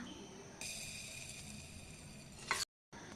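A hot mustard-seed and urad dal tempering hits a cucumber mustard dish, giving a steady hiss with a sharp sizzling burst near the end before a brief cut to silence.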